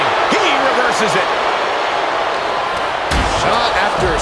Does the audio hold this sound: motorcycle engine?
no